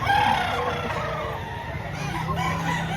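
Chickens cluck and crow at a busy poultry market in Lipa, Batangas, a dense chorus of fowl calls, with a rooster prominent near the start, over steady crowd background.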